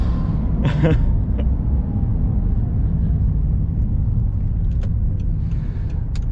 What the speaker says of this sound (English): the exhaust note is beautiful